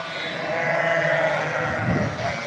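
A lamb bleats on a steppe farm, giving a sustained wavering cry with a second bleat swelling near the end, heard close and fairly loud.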